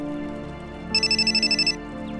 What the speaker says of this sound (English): Oh, stop ringing!